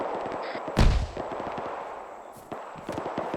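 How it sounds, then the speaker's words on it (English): Grenade explosions during an ArmA 3 military operation, with one sharp, loud blast followed by scattered distant pops and crackling gunfire, with a second fainter impact later on. "Where are those grenades coming from?"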